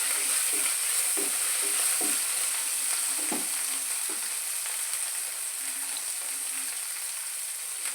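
Vegetables sautéing with salt in a pan for poriyal, a steady close sizzle and hiss with occasional soft scrapes of a stirring spoon, no talking.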